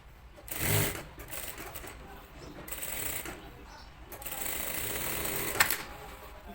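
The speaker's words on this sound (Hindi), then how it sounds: "हमने इसकी सिलाई लगाई" Sewing machine stitches a garment neckline in short runs, its rapid mechanical chatter starting and stopping, fairly close and moderately loud, with a brief bit of handling noise between runs.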